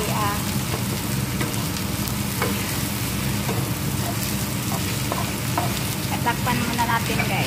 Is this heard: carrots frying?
yes